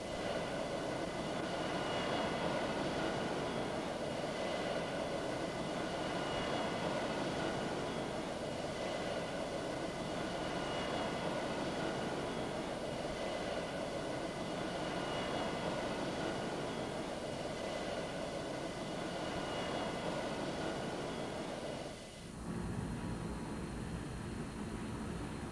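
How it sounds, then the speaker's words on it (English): A Tu-144 supersonic airliner roars steadily on takeoff, a loud sustained jet rumble with broadband hiss that holds throughout, then shifts abruptly in tone near the end. "Elyan announced that the Tu-144 was ready for takeoff."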